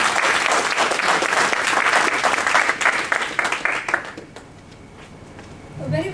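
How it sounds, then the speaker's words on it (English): Audience applause at a Toastmasters chartering ceremony, welcoming the Sergeant at Arms. Dense, steady clapping fills the room for about four seconds, then fades to scattered claps and quiet, with a brief swell near the end. "Let's give a huge round of applause for our Sergeant at Arms, Sheila."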